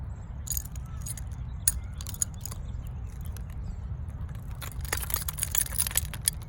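Steel keys clink and jangle against a very strong magnet in sparse, light metallic taps over a low background rumble, with a denser flurry of clicks near the end.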